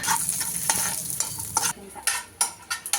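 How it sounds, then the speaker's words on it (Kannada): Dry fruits frying in ghee in a pan, a dense steady sizzle with repeated stirring scrapes and clinks throughout, close and fairly loud with no voices. "ತುಪ್ಪದ ಮೇಲೆ ನಾನು ಡ್ರೈ ಫ್ರೂಟ್ಸ್ಗಳನ್ನ ಹುರ್ಕೋತಾ ಇದ್ದೀನಿ"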